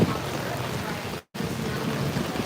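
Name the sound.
rain falling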